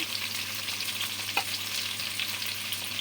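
Onions dropped into a pan of browned meat fry with a steady close sizzle and crackle, with a brief stir or clink partway through and no talk.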